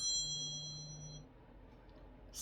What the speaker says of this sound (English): I thought I had turned off my phone,